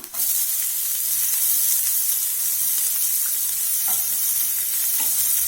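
Finely chopped onions sautéing in a pan for a bread chilli dish, giving a steady, close, continuous sizzle with a few faint stirring scrapes.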